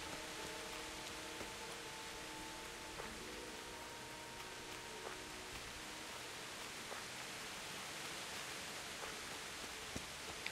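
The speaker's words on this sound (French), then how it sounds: "Il pleut, il mouille." In the medieval video game Kingdom Come: Deliverance, rain falls as a steady, faint hiss that spreads evenly through the scene, with no speech over it and only a few soft ticks rising above the wash.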